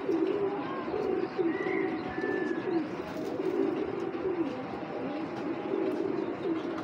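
Racing pigeons cooing close by, steady repeated throaty coos with occasional chirps and faint background murmur.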